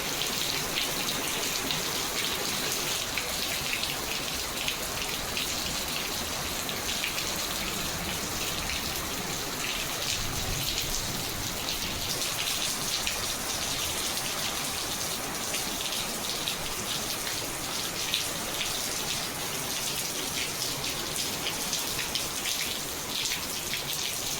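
Steady rain falls throughout, a dense hiss of drops hitting a surface nearby, unbroken and with no voices.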